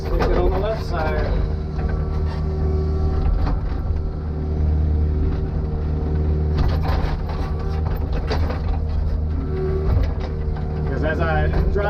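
A vehicle dragging a grading blade over a long dirt driveway, filling ruts as it rolls; a steady loud engine drone with rattling mechanical clanks runs throughout, close by, while someone talks over it.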